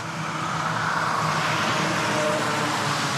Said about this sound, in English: this truck coming by